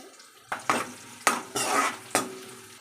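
Green chilli pieces tossed into a pan for a stuffed brinjal curry, with several sharp stirring scrapes and bursts of sizzle at a steady rhythm, close and fairly loud.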